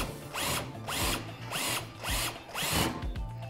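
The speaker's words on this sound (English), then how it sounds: "Now we actually have drilled our hole and it's on both sides of our metal" Power drill boring a hole through sheet metal in short bursts, about five loud whirring pulses with rising and falling motor pitch and grinding bite, close up with brief pauses between.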